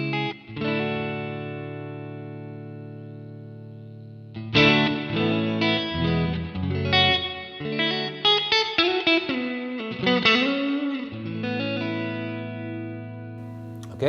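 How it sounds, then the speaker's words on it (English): Electric guitar through an IK Multimedia Tonex One set to plate reverb, sustained chords ringing out, then a busier run of picked notes and bends, each swelling into a smooth, lingering wash of reverb tail. "Okay, so that's the plate reverb."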